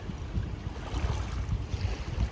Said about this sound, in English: But I will wait till these waves are gone.